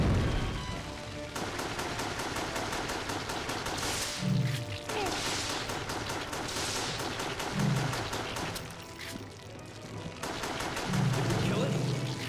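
Fast, steady pistol fire from an upgraded handgun in Resident Evil The Darkside Chronicles, a long string of sharp repeated shots with short pauses between volleys and impacts.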